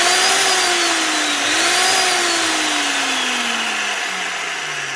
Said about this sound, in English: So everything's working on the drill, the motor's working, the magnet's working, everything's right.